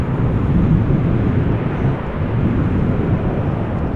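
A fixed-wing airplane arriving at Amsterdam Schiphol Airport in gusty crosswind, a steady loud low roar of jet engines mixed with wind buffeting on the microphone throughout, with no talk.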